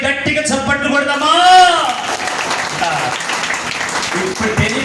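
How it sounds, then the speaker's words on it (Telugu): Loud applause from a church congregation during a sermon breaks out after a brief singing or speaking voice and continues as dense, steady clapping for several seconds. "గట్టిగా చప్పట్లు కొడదామా?"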